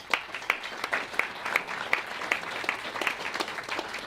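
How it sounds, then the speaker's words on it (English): Brisk applause from a modest crowd at a lunch program, with distinct claps standing out in a quick, fairly even rhythm at moderate loudness. "How about a round of applause for them?"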